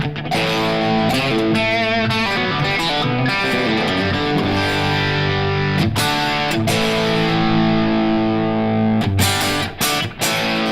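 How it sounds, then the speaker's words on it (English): Electric guitar played through a Vemriam Landau Butter Machine distortion pedal, loud and heavily distorted, with sustained chords and riffs throughout and brief breaks near the end. "This is a great pedal, the Vemriam Landau Butter Machine. Just a little, it's tweaky and it's loud. So here, gonna be more of a distortion."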